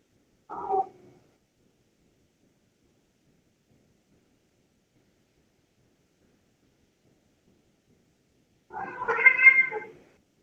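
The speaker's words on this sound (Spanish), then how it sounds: "Ahí están los gatos." Indoor cats meowing to be let out through a door, one short meow near the start and a longer, louder meow after a long silence, heard alone and close.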